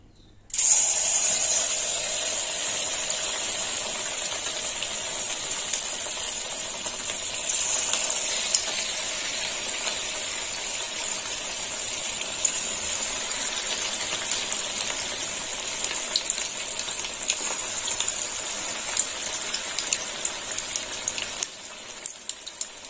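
Capsicum pakoras deep frying in hot oil, a steady bright sizzle with a crackling hiss that holds for about twenty seconds, then cuts off near the end.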